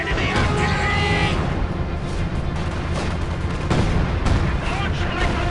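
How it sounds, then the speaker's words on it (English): Enemy artillery fire in the video game Company of Heroes: heavy booming blasts and gunfire rumble close and loud, with unit voices talking over the battle. "Enemy artillery!"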